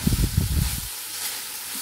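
A spatula stirs a cabbage, carrot and bean poriyal with grated coconut in a hot pan, making close scraping and tossing sounds for about a second before a soft, steady hiss.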